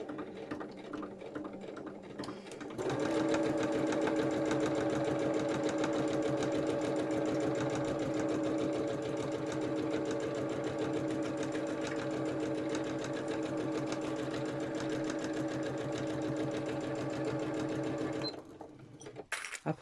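A DXL 603 sewing machine, said to need a service, stitching in a steady fast whirring run of about fifteen seconds that starts and stops abruptly, close and alone.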